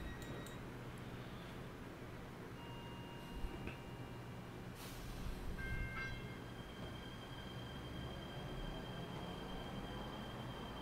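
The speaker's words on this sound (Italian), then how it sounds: "Quindi abbiamo fatto il collegamento e ora prendiamo il treno." A train runs along the tracks in the video game Transport Fever 2, a low, faint rumble with scattered high squeals and tones from the wheels and rails, heard alone throughout.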